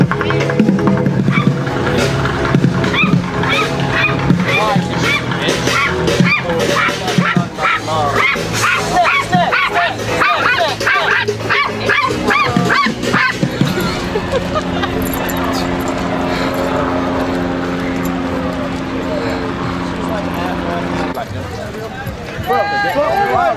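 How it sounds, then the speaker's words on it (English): A dog barks at the Gasparilla 2024 street parade amid constant loud crowd noise, with people talking and shouting close by throughout. "that's an amazing dog"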